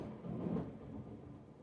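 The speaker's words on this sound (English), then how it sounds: "This sounds like the Halloween episode with all this thunder, man." Thunder rumbles faintly in the distance as a low, soft roll that swells briefly and then fades, with no voices over it.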